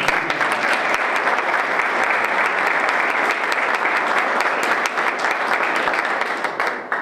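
At a half marathon presentation event in Canals, an indoor audience applauds warmly, a loud, steady wash of many hands clapping that tapers slightly toward the end.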